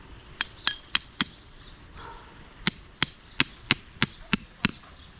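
Sharp metallic hammer blows drive a steel electrode for electrical resistivity imaging into the ground, four quick ringing strikes, a pause, then about seven more in a steady rhythm, close and loud with no talking.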